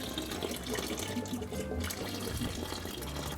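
Coolant pours out of a Toyota 2UZ-FE V8 during a water pump and timing belt job, splashing onto the sway bar of a 4Runner or Tundra. The trickle and splatter is quiet but steady throughout.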